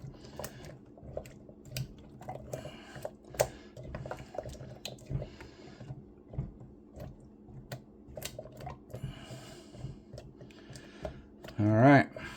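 A spatula stirs beef stroganoff in a crockpot, giving soft, quiet scrapes, wet squelches and light irregular taps against the pot, with faint speech now and then.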